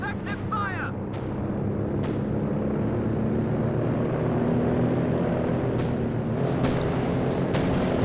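Aircraft drone over a Company of Heroes 2 battle, a steady, loud engine roar with battlefield rumble that fills the whole stretch, while a voice speaks over part of it.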